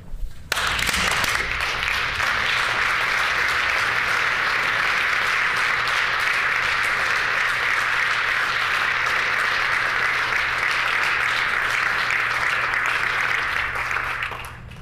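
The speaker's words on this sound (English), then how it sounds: "Please join me in a huge round of applause to celebrate Big Brothers, Big Sisters, Central Plains, half a century of mentorship." A full legislative chamber breaks into sustained, dense applause that holds at an even level for roughly fifteen seconds and then cuts off.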